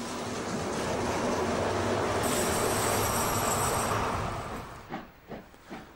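A steam locomotive hauls a coal train, with electric locomotive 112 708 pushing at the rear. A loud, steady rumbling roar with hiss fades, then gives way to a few sharp puffs or clanks.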